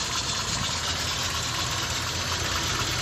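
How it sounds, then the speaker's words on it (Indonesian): A 1980 Toyota Corona RT132 with a 2000cc engine runs steadily at idle, a dense even mechanical hum with no talking. "Terus memang bunyi mesinnya seperti ini karena CC-nya 2000."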